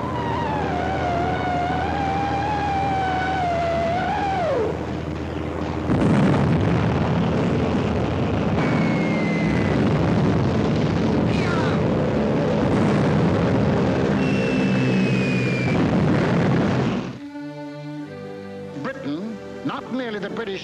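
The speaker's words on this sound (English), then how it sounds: "British planes had bombed German warships in the Kiel Canal." Archival wartime film of British warplanes bombing German warships in the Kiel Canal, with a continuous loud roar of aircraft engines, rumbling blasts and a descending whine. Orchestral music plays throughout the clip.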